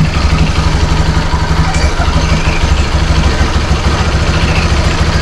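A motorcycle engine runs at a steady, loud idle with a rapid even putter, close by and alone, with no speech over it.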